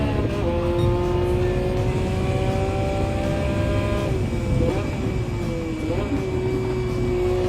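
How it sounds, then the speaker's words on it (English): Gran Turismo 7 car engine on PS5, a steady droning tone with harmonic lines that hold level and dip briefly around gear shifts, continuous and fairly loud throughout. "Car sounds pretty much the same at the moment."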